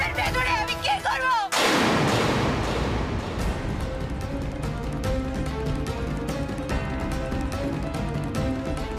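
A single loud blast bursts in suddenly, then a roaring, crackling rumble trails on for several seconds with scattered debris-like cracks, after a brief stretch of tonal background sound.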